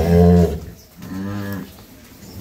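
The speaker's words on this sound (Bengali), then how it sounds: "এই তিনটা গাভী" Dairy cows on a farm in Dinajpur give two deep, drawn-out moos, the first loud and close and the second slightly softer, with no talk over them.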